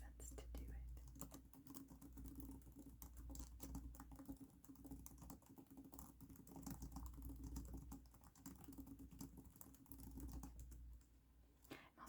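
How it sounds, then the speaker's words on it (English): Typing on a computer keyboard in a quiet room produces a quick, irregular patter of soft clicks that runs throughout, with low soft-spoken talk over it. "I'm just typing as I normally would"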